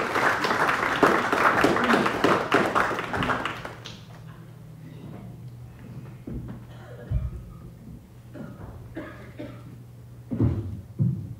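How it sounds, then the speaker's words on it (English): A church congregation at a worship service claps together in a lively burst for roughly four seconds, then it fades to scattered faint taps and room noise. "Let's give our Lord the best clap of the room."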